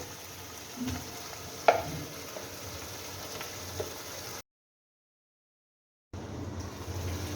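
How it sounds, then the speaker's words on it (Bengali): Salted snakehead fish sautéing in a pan, a steady close sizzle with an occasional sharp stirring tap, broken by a brief silent gap before the frying noise resumes. "আমি এখন এই মাছগুলোকে ধুয়ে লবণ মাখিয়ে রেখেছিলাম, ওইটাকে কষিয়ে নেব।"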